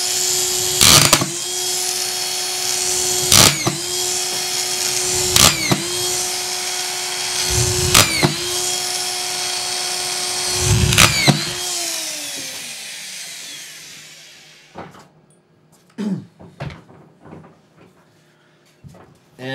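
A Hilti SD 5000 cordless drywall screwdriver drives 2-inch screws through double-layer 5/8 drywall into wood. Five short, loud whirring bursts are each followed by a clack, then the motor winds down and a few scattered handling knocks follow.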